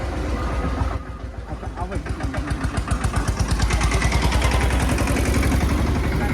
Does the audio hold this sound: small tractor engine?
yes